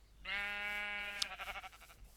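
A sheep bleats in the video game Minecraft: one sustained, wavering baa of about a second, fairly close and clear, ending in a short stuttering tail against a quiet background.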